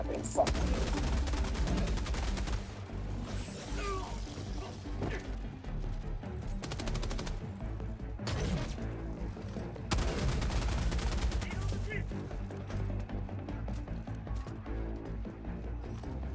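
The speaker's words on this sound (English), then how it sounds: "With just 20 rounds, you can bring them down with the buffed heavy machine gun." Heavy machine gun fire in the video game Helldivers 2, with dense, loud, sustained bursts of rapid shots and crashing impacts running nearly continuously, broken by a few short pauses.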